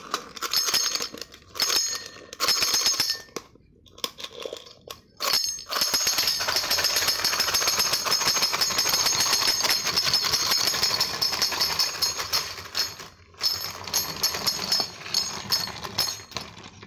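Russian bear wind-up key toy running, a steady mechanical whirring and ratcheting clatter that starts in short bursts, then runs continuously and fairly loud with a few brief pauses near the end.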